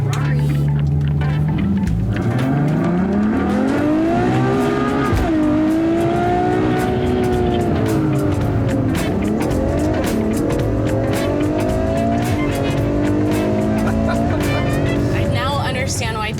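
A Ferrari engine revs hard while driving, rising and falling through gears with tire squeal, loud and close, with a voice talking over parts of it.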